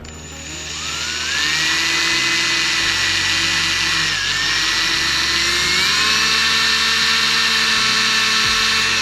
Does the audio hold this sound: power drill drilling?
yes